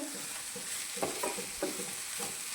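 Onions and tomatoes fry in a pan with a steady, close sizzle, while a utensil stirs them in scraping strokes about every half second. No one speaks.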